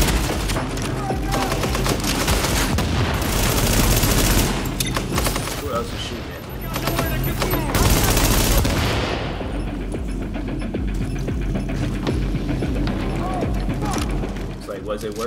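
Rapid automatic gunfire in the video game Tom Clancy's The Division, loud and sustained bursts with mechanical clatter, trailing off into lighter scattered shots, while players talk over it.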